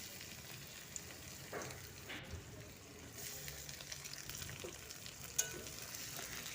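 Frying potatoes hiss softly as chopped onion and tomato are tipped in, a quiet steady sizzle with faint scraping and a small clatter near the end.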